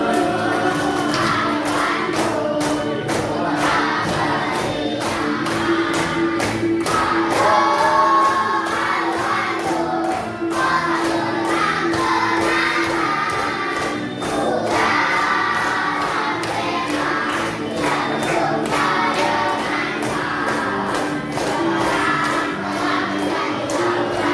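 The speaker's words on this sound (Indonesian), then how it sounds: "Boleh tepuk tangannya dulu." Schoolchildren in an Indonesian Islamic religious education class clap in a steady, rhythmic pattern alongside lively group voices and shouting, continuing evenly for over twenty seconds.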